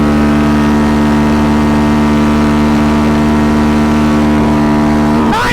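Big 5 Raptor ATV engine screaming at high RPM in fourth gear, a loud steady near wail with no talk, climbing sharply in pitch right at the end.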